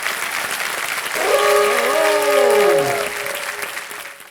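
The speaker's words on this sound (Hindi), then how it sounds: "बहुत बहुत तालियां बज जाएं।" Studio audience on a TV quiz show breaks into loud, sustained applause, a dense wash of clapping that swells and holds, joined midway by a tonal musical sting.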